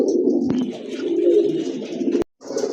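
A pair of Afsan grizzle pigeons coo close by in a steady, low, rolling stream that pauses briefly near the end and then resumes.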